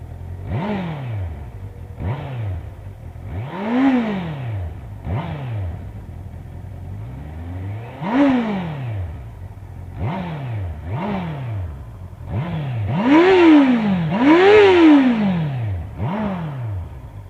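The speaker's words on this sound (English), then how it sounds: "right now I'll give you an exhaust clip" A Honda CBR650R motorcycle engine idles and is revved repeatedly in sharp exhaust bursts, each rev rising and falling back, with the last few longer and louder.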